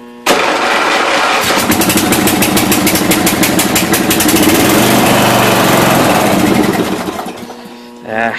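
A 1992 Yard King lawn tractor engine runs on a little gas after sitting unused for years, a loud close-up chugging drone that holds steady, then sags and fades near the end, with a voice briefly audible over it.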